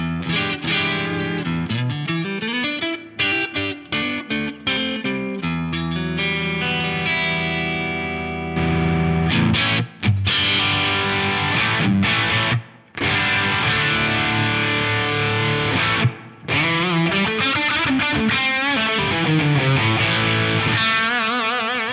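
An electric guitar plays through an amp, switching between cleaner and heavily distorted tones, with brief gaps and reverb swelling as the sound changes.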